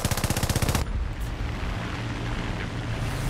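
Rapid, loud bursts of 20 mm cannon fire in the air-combat game War Thunder, a dense string of shots lasting under a second, followed by a steady engine drone.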